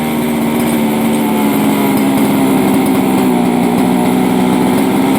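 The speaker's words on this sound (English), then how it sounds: "That's just me messing with the throttle." A King Motors X2 Red Cat XT RC car engine revs steadily and loudly as its throttle is worked, a constant buzzing drone with a small-engine whine that fills the whole stretch with no pauses.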